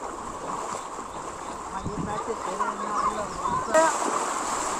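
Fast monsoon floodwater rushes and splashes in a steady broadband roar, with people talking nearby over the noise.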